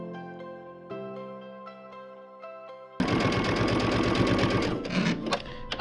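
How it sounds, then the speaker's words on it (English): A sewing machine stitches a quarter-inch seam down a quilt block, starting with a tonal hum, then switching at about three seconds to a loud, steady mechanical rattle of rapid needle strokes close up. "I'm gonna sew a 1/4 inch seam down the block"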